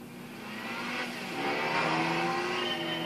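A car in the video game Gran Turismo 5 drives with its ride height hacked low, a steady engine drone rising slightly in pitch and loudness over a few seconds, with no talk.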